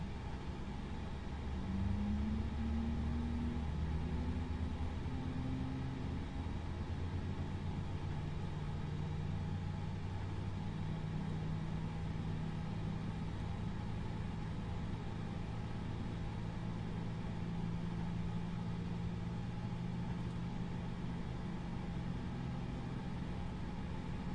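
Airbus A320 jet engines spool up in a flight simulator, a steady low droning rumble with rising tonal whines sweeping slowly upward and holding, continuous and even with no talking.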